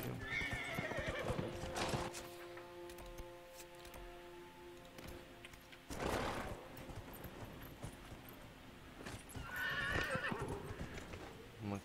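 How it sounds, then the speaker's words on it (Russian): Horse hooves clip-clop in a steady rhythm, with loud whinnies near the start and end of the stretch, under a sustained musical backdrop in a video game scene. "Мы когда так скачем на лошади"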